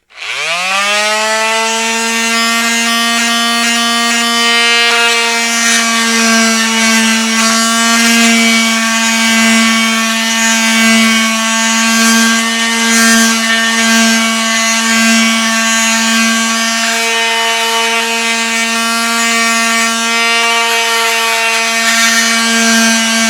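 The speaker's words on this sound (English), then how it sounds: "I'm going to hit it with a sander just like I would, clean it up, and you'll see how those hammer marks will disappear" A power sander runs steadily and loudly on a fabricated metal wickerbill, smoothing out hammer marks. It starts up with a rising whine, then holds one continuous high-pitched drone, alone with no talk.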